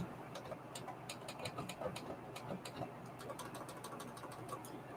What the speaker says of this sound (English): I'm still going to do a straight stitch actually.